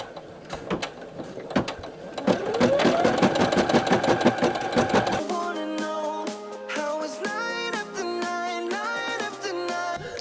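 An embroidery machine stitching felt, loud rapid needle clatter with whirring motor pitches that shift as it runs, alone without talk.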